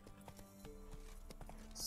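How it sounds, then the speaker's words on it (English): Horse hooves clip-clop at a steady walking rhythm in the video game The Witcher 3: Wild Hunt, faint and even beneath quiet game music. "So, this is my horse, and my horse is amazing."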